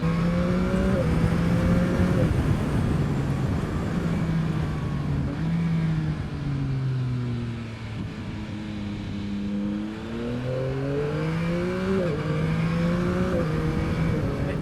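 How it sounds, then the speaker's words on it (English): A motorcycle is ridden at speed while the rider shifts through the gears with a quick shifter, its engine droning loud and close with clear pitch steps as each gear changes, first rising, then dropping and climbing again, over steady wind noise. "When I'm doing general riding like this, I can just go up and down the gears so easily"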